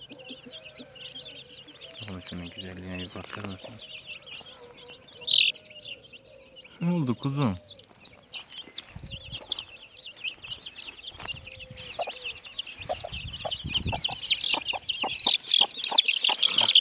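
Chickens cluck and chirp around a farmyard flock, soft at first then busier and louder toward the end, while someone talks over them.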